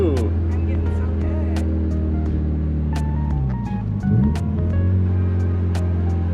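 Turbocharged Dodge Ram 50 truck engine dropping through a downshift, a loud steady drone whose pitch slides down and then climbs again, with people talking over it.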